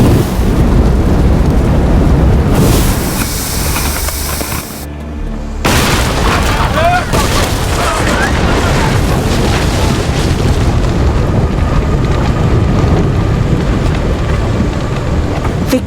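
Naval cannons fire on command in Assassin's Creed Odyssey, heavy rumbling booms rolling over one another, then a brief drop before a long, loud, sustained roar of blasts and debris.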